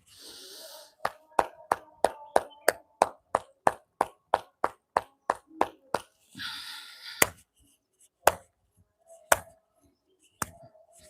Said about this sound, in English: Clapping as well.